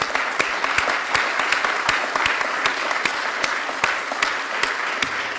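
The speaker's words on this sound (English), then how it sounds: "So can we have a round of applause?" A room full of people at a council meeting claps steadily, a dense, even patter of many hands sustained throughout, with no voices rising above it.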